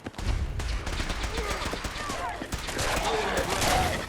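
Rapid gunfire rattles through a Fallout 4 firefight, bursts of shots repeating over a loud, busy background of game combat noise for several seconds.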